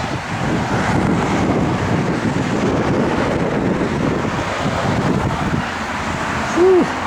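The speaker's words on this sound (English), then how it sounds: "that wind is rough" Strong outdoor wind buffets the microphone in steady, loud rumbling gusts beside a 1964 Rambler American, with a brief short tone near the end.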